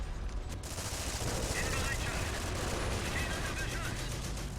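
Tank and anti-tank gunfire in a World War II war video game, with a StuG, a Sherman Calliope and a 57mm anti-tank gun, forming a dense, continuous volley of shots that stays loud throughout.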